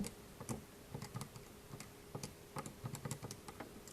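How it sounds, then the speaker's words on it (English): Keyboard typing as numbers are entered to calculate a z-score; quick, light clicking keystrokes in small irregular bursts, close and fairly quiet, with no talking. "So when we type this in"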